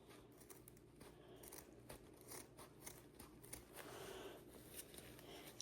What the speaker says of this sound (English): let's see if I can get started with these scissors